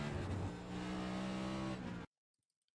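A NASCAR race car engine in iRacing on the Daytona road course roars at full throttle, a steady loud close drone that cuts off abruptly into near silence.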